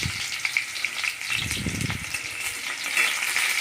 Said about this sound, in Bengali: আস্তে করে বসিয়ে দিয়ে সবগুলো আস্তে আস্তে করে নাড়তে হবে, এপিট ওপিট করে ভাজতে হবে